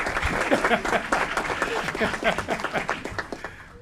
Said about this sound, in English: Keep the applause going for our Asian American community.